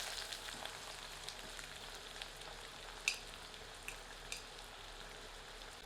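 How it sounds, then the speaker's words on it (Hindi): Onions frying slowly in oil over low heat, a faint, steady crackle with a few small pops, quiet and continuous without any talking. "प्याज को हमें इस तेल में धीमी आंच पर भूनना है जब तक कि प्याज सुनहरे रंग की नहीं हो जाती।"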